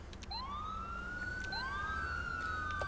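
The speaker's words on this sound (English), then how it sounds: "shut these sirens off" A police car siren in the video game GTA V wails in rising sweeps, two long glides climbing and holding, loud and steady over a low engine rumble, no talking.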